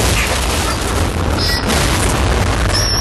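A cannon shot in the Halo video game Spartan Ops: a loud, dense, sustained explosive rumble filling the whole span, heavy low boom with crackling debris, no talk.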